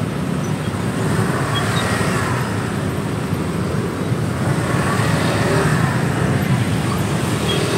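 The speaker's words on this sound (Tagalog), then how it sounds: "Sobrang traffic anywhere." Heavy bumper-to-bumper road traffic on C5 Kalayaan heading toward Pasig makes a dense, steady roar of engines and tyres that stays loud and unbroken throughout.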